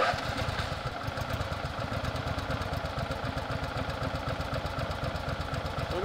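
A Snowdog motorized snow vehicle runs with a steady, rapid low engine putter at idle, close and continuous under windy outdoor air, with no voices.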